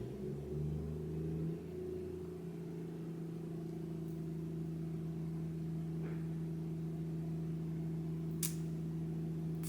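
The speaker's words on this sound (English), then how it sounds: "the garbage truck is outside" A garbage truck idles outside with a steady low engine rumble and hum that eases slightly early on, joined by a brief faint clank and a short high squeal near the end.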